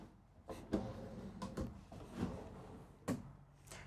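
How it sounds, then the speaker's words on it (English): Soft-close maple hardwood drawers in an RV cabin sliding and settling, several quiet separate bumps and slides spaced over a few seconds, close and faint in a quiet room. "these are all going to be soft close maple hardwood drawers"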